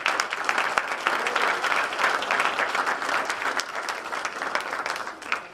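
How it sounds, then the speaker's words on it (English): Audience applause at a high school athletic awards ceremony, a dense, steady wash of many hands clapping that holds evenly for several seconds before tapering slightly at the end. "So please give him a round of applause."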